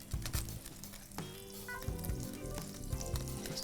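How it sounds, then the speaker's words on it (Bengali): Butter and oil melt together in a pan, giving a steady low sizzle with scattered pops and a few scraping knocks as shashlik prep begins for an iftar dish. "বাটারটা আগে পুরোপুরি গলতে দেব। তেলটা না দিলে কিন্তু বাটারটা পুড়ে যাবে"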